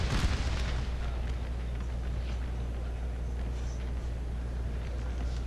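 In a Civil War video game, a heavy cannon boom opens loud and close, followed by a low rumbling battlefield din that keeps going at a steady level.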